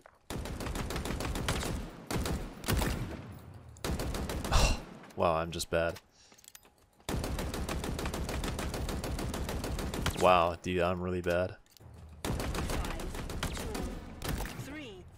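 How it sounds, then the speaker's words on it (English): Gunfire in the video game Halo Infinite: long stretches of rapid, loud shooting separated by short pauses and mechanical clacks, while a player talks between bursts. "I just wanna shoot this gun a little bit more."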